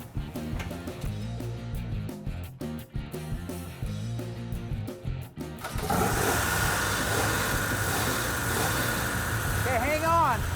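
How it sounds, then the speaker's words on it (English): An old Dodge Challenger with a freshly finished engine cranks and fires, shifting from a choppy, uneven start into a loud, steady rumbling idle that runs for several seconds. "Just hop in, put it in neutral, I'll start it up."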